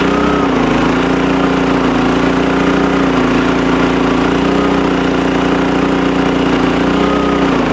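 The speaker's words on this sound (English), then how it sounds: "Look at that little smart throttle. It throttles up and down based on load." A portable generator runs with its smart throttle under load, giving a close, loud, constant engine drone with a humming tone that dips and rises slightly as the throttle adjusts.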